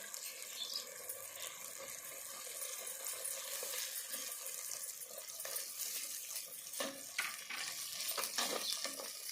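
Ginger garlic paste sizzles in a pan with tomato and onion for a Bocha fish curry, a steady close hiss of frying with scattered scraping and stirring clatter growing a little busier toward the end, no voices.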